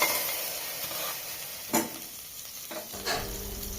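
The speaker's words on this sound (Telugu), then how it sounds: "కడాయి చక్కగా వేడెక్కాక అందులోకి బటర్ వేసుకుందాము" Butter melts and sizzles in a hot stainless steel kadai, a close steady frying hiss broken by a few sharp stir or spatter bursts, no voices.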